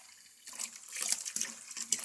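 Water returning from a manifold hose splashes and gurgles into a bucket in uneven close bursts, starting after a quiet moment, with no voices.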